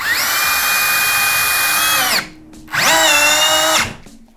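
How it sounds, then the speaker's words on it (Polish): A Festool cordless drill with an angle attachment drives a screw in two loud, close bursts: a high whine of about two seconds, a short pause, then a second run of about one second, each winding down at the end. "jak będzie mi się wkręcało śrubę przy pomocy tej kątowej nasadki"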